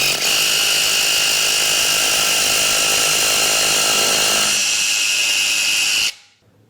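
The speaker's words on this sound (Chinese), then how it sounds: "今天我们打几个孔试一下" A power drill bores test holes for M8, M10 and M12 expansion bolts using 8, 10 and 12 mm bits. It is a loud, steady, close whine that runs about six seconds, then cuts off abruptly.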